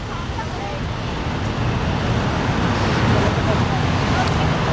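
Dense car traffic circles the Arc de Triomphe in Paris, a continuous broad roadway roar of many vehicles with a faint voice in the background.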